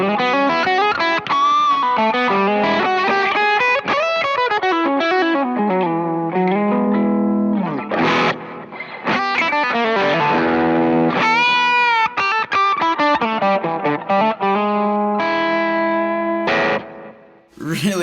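Distorted electric guitar played through a Jamstik plays a fast, busy melodic run with effects and echo, loud and continuous, dipping briefly before ending.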